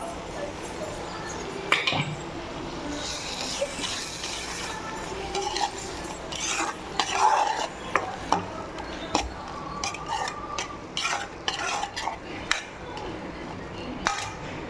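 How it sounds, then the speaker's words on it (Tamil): A spoon stirs raw banana coriander masala with coconut paste in a metal pan, giving repeated light scrapes and clinks in an irregular rhythm over a steady kitchen background. "நான் தேங்காயை பால் ஊற்றி பேஸ்ட்டாக அரைச்சி வந்துட்டேன் அதையும் ஊற்றிக்கலாம்"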